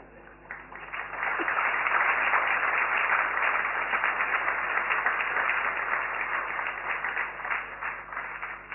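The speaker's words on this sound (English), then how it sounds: "You are clapping" An audience clapping during a spiritual talk in a hall, a broad, sustained wash of many hands applauding together, fairly loud and continuous for several seconds with no speech.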